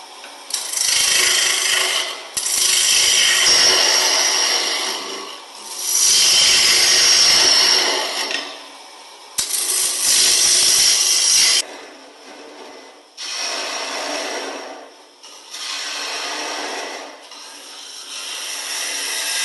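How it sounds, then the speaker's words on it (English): A gouge carves out the inside of a wooden bowl on a lathe, a loud abrasive rasping scrape in long sustained passes broken by brief pauses, close and alone without talk. "So we set this tool rest where we need it, so we can carve out the inside of that bowl using the same gouge."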